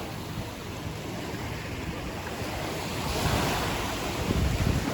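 Sea waves wash onto the beach at Can Picafort, Mallorca, as a continuous roar of surf that swells slightly toward the end, mixed with wind buffeting the microphone.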